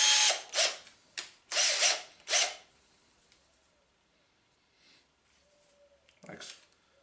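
Parkside PABS 20-Li D4 cordless drill set to drill mode, revved in several short loud bursts of whirring motor near the listener, then falling quiet with faint handling clicks.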